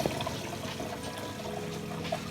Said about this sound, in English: I just hooked up the main display tank drain for now, made it a lot simpler, and as you can see, it is bubbling away in there.